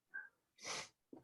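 A man gives a single sharp sneeze, preceded by a quick intake of breath and followed by a short snort or sniff, quiet and close, with no talk around it.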